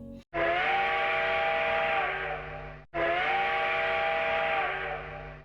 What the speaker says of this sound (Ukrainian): Довгий протяжний гудок потягу